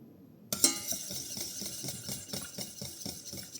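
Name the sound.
stirring egg white in a saucepan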